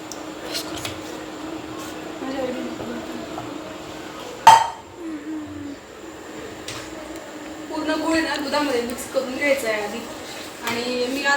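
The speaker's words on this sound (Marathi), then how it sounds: "हा गुळ आहे ना त्याच्यामध्ये असं चमच्याने आधी घालून आहे ना पूर्ण पगळून द्यायचा आहे" A spoon stirs grated jaggery in a metal pot, giving soft scrapes and occasional light clinks, with one sharper knock midway, while someone talks throughout.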